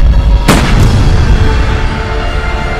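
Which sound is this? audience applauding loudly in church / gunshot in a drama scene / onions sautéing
gunshot in a drama scene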